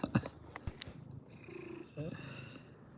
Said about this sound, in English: Yeah, you sit there and purr.